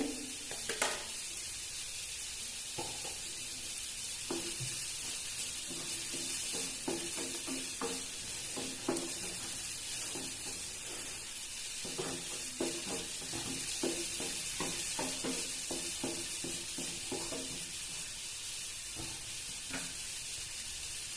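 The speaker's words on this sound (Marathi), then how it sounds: "कांदा लसून मी टाकून घेते" Chopped onion and garlic sizzle in hot oil in a frying pan, a steady close crackling hiss with scattered stirring scrapes and pops throughout.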